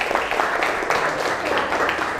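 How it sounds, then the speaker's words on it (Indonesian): Classroom audience applauding a student discussion group during a teacher performance exam session, a dense steady patter of clapping lasting about two seconds with a faint murmur underneath. "Kasih tepuk tangan untuk kelompok 1."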